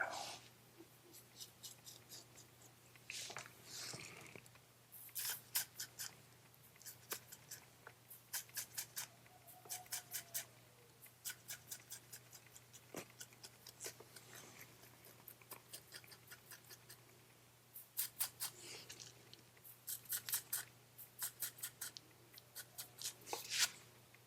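Close, quiet scissors snip a beard in quick clusters of crisp clicks separated by pauses, over a faint steady hum.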